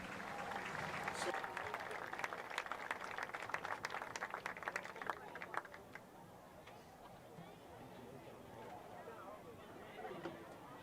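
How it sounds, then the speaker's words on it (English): A football stadium crowd applauds the homecoming court, with dense clapping for about six seconds before it thins and fades into quieter crowd chatter. "Let's give them a nice round of applause."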